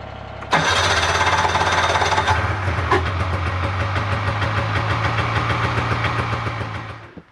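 A tractor engine fitted with a rear snowblower starts abruptly and settles into a loud, steady, close idle with a clattering mechanical rhythm, then cuts off at the end.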